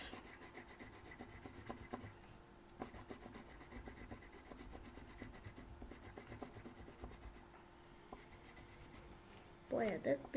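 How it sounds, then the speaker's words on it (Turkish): A red colored pencil rubs back and forth on paper, coloring in hearts, a soft continuous scratchy shading close up, with a louder rustle near the end. "İlk önce kırmızı kalemimizi alıp kalpleri boyuyoruz."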